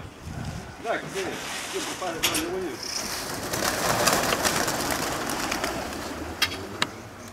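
Pigeons flutter and coo at a show-pigeon club gathering while people talk nearby, with wingbeats and a few sharp knocks breaking through the outdoor murmur.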